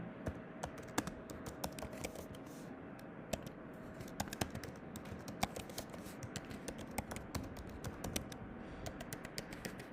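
Rapid typing on a computer keyboard while entering demo records into a lead management system, quick irregular clicks close up at low level over a faint background.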